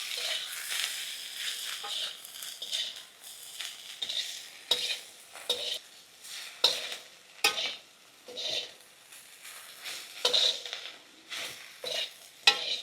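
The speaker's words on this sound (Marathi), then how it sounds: "आपण आता सर्व व्यवस्थित मसाला परतून घेऊ भेंडीमध्ये" Okra and spice masala with garlic, coriander powder, crushed peanuts and chopped coriander, sautéed and stirred in a pan for lehsuni bhindi: steady frying sizzle under repeated scraping stir strokes, close and fairly loud.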